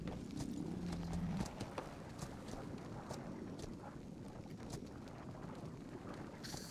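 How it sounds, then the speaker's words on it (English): Horse hooves clopping in the Atlas pirate video game, a quick uneven patter of steps under light wind noise, with a louder engine-like hum at the start. "I am scooching the horse a little bit forward."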